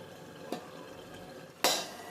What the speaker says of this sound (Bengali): এখানে আমি ঢাকনাটা দিয়ে দিলাম